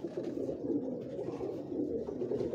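Purebred pigeons with blue feet coo steadily in a low, continuous murmur on a Lahore rooftop loft, several birds overlapping close by with no talk.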